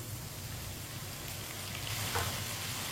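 Onion and tomatoes frying in a pan for bhindi sabzi over medium heat, a steady dense sizzle like light rain that swells slightly toward the end; no talking.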